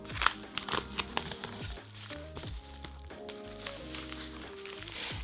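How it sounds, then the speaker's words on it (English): Packaging for comic con stickers is opened up close, with sharp crinkling and tapping of paper or plastic at first, then quieter handling while music plays. "let's open those stickers."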